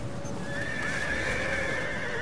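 Horse whinny in the Total War: Attila battle game, one long shrill neigh over a dense rumble of battle and hooves, loud and steady throughout.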